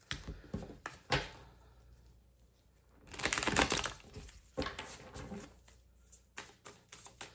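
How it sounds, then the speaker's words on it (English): A deck of tarot cards being shuffled, with soft riffling bursts, a longer flurry in the middle and scattered clicks and taps, quiet and close with no talk. "One more shuffle."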